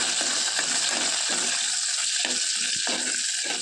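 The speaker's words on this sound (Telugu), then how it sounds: "ఒక కుక్కర్ తీసుకొని ఒక స్పూన్ ఆయిల్ వేసి కొద్దిగా జీలకర్ర వేసుకోవాలి అలాగే పచ్చిమిర్చి ముక్కలు కూడా వేసుకొని కొద్దిగా వేయించుకోవాలి" Cumin seeds and chopped green chillies frying in a spoonful of oil in a pressure cooker, giving a continuous soft sizzle with irregular crackles and light stirring scrapes, no talking.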